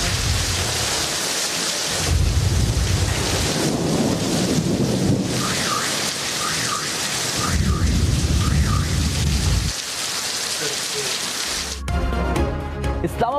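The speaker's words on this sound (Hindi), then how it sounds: "इस्लामाबाद और रावलपिंडी में बादल बरस पड़े।" Heavy rain pours across Islamabad and Rawalpindi during a storm, a steady loud hiss with low thunder rumbles swelling through it and faint voices and other noise breaking in near the end.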